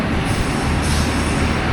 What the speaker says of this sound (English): this is the Canberra train that's just arrived